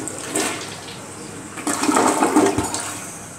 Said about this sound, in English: Now, Justin is going to flush the toilet for you.